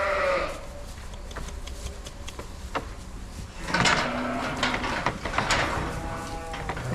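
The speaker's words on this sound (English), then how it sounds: "I don't know if they like hearing those other sheep up front or not." Sheep on a farm bleat repeatedly, some calls nearby and others farther off, with scattered clatter and shuffling between the calls.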